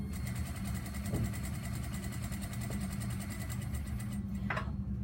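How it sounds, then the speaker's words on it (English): A sewing machine runs steadily while stitching an inseam pocket, its rapid needle rhythm forming a continuous, fairly loud mechanical hum with a faint brief clack near the end. "continue sewing straight"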